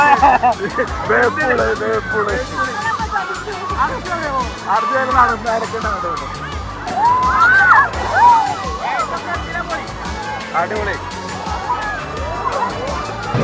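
Water sloshes and splashes in the wave pool at Wonderla amusement park, under a steady crowd hubbub of voices and shouts that stays fairly loud throughout.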